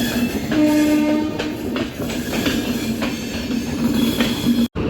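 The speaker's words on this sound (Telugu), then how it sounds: "వ్యాప్ 7 లోకోమోటివ్ చెన్నై సెంట్రల్లో బెంగళూరు లాల్బాగ్ ఎక్స్ప్రెస్ అయితే వెళ్ళిపోతుంది." A WAP-7 electric locomotive hauls the Bengaluru Lalbagh Express out of Chennai Central, with a steady loud rumble of rolling wagons and wheel clatter and a sustained horn note sounding near the start.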